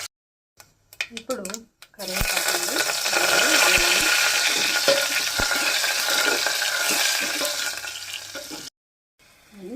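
Green chillies hit hot oil in a pan and crackle into a loud continuous sizzle for several seconds before it cuts off, with a voice talking briefly before and during it.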